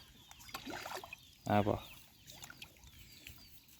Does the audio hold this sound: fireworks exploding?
no